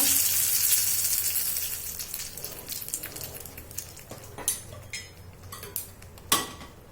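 Hot oil tempering for raw mango gojju sizzles and crackles loudly at first, then settles into softer frying with a few sharp pops and clinks of metal utensils.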